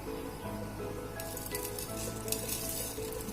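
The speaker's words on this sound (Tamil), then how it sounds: "சின்ன வெங்காயம், பூண்டு, இவ்வளோத்தையும் சேர்த்து இதோட தேவைக்கு உப்பு ஆட் பண்ணி" Shallots, garlic and salt fry in a pan with a soft, continuous sizzle, close and fairly quiet, with a faint clink of a utensil partway through.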